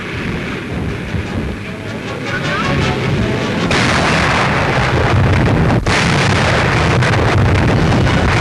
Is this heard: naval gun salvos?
yes